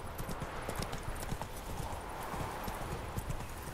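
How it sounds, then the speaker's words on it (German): A horse's hooves clip-clop in a steady, quick rhythm while riding in The Witcher 3, with a faint voice briefly underneath. "Wieso kann ich nicht schnell reiten?"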